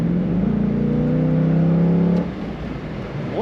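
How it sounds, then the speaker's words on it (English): 2004 Chevrolet Corvette convertible driving, its engine droning loud and close with a rising tone, then easing off as the revs drop. "Can take a corner with a little more speed in the Corvette"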